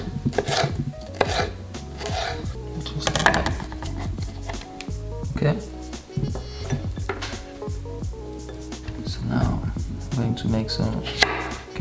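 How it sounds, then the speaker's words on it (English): A knife slicing a cucumber into sticks on a cutting board, steady repeated thuds and taps close up with occasional clinks, continuing for several seconds with no speech. "Make some cucumber sticks."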